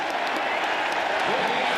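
Home crowd at an Arizona State college football game cheering and applauding, a dense steady roar throughout, with a commentator talking over it.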